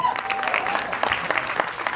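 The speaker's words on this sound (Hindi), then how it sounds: "इसके लिए एक बार जोरदार ताली होनी चाहिए।" Audience applause fills a film trailer launch event, a dense wash of clapping with a voice or cheer briefly heard over it.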